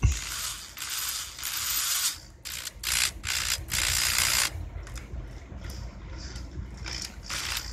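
A driver bit is turned on the bolts of a Craftsman Bushwacker mower's spark arrestor heat shield, giving quiet, repeated ratcheting clicks in short bursts with pauses between them, close by.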